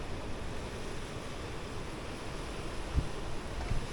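Steady wind buffeting the microphone while fishing in Jamaica, a constant low rumble and broad hiss with a couple of brief gusty thumps near the end.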